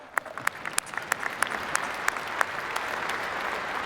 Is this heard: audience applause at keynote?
yes